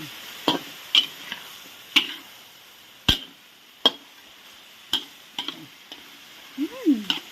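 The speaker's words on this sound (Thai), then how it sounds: "เทถั่วลงเลยผัดไปกัน" Sharp scraping clinks of a spatula stirring chopped beans in a pan for Thai basil chicken, irregular and close, with a faint sizzle underneath and a brief murmur of voice.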